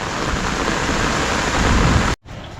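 Steady, dense rain falling, loud and close, a continuous hiss that cuts off abruptly near the end.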